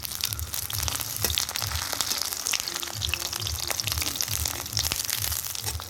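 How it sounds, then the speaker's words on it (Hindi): Taro (arbi) leaves frying in oil in a wok, a continuous crackling sizzle with rhythmic low thumps and squelches as a sieve presses them down again and again, close and busy. "अब छलनी से दबा दबा के इन्हें फ्राई करेंगे।"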